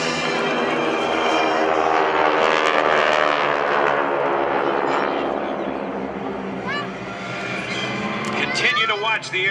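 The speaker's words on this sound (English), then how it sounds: "all 6 aircraft in line abreast, setting up for their salute" Six GEICO Skytypers propeller aircraft sweep overhead in line abreast during a fan pass at a military open house air show, a loud sustained droning roar that swells and shifts pitch as they pass, with announcer talk over it.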